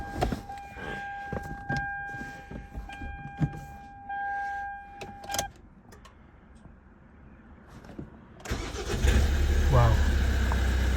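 Toyota Avensis 2.0 D4D diesel with a new starter motor cranks and fires near the end, rising to a loud, steady diesel idle after several seconds of quiet clicks, rustling and beeps from the car.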